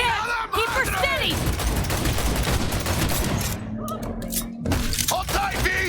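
Rapid bursts of gunfire crackle during a high-speed car chase in the video game Cyberpunk 2077, loud and close, mixed with engine roar and shouted voices.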